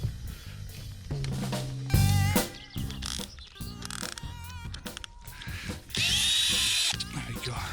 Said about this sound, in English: I'm going to drill through here.